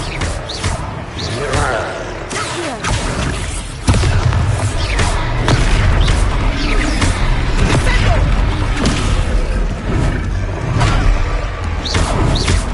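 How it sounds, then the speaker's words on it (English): Ancient magic throw spell in the video game Hogwarts Legacy, a loud heavy boom with whooshing thuds over dense battle noise while game characters talk. "R1 button ancient magic throw."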